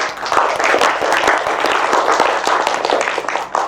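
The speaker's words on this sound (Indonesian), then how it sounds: "Oke, tepuk tangan untuk kelompok." A classroom group is applauded after answering, a steady burst of clapping from many hands that runs dense and continuous throughout, close and fairly loud.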